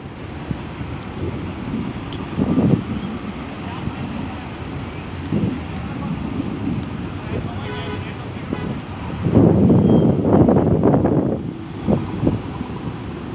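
Strong wind buffets the microphone in rumbling gusts, swelling loudest near the end, while people talk nearby.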